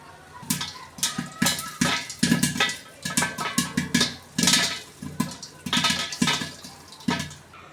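Corn kernels popping in hot oil inside a covered pan, heard as a rapid, irregular series of close sharp pops and rattles against the lid, continuous throughout.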